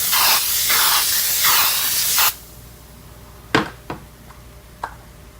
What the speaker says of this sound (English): I'm going to coat it with some cooking spray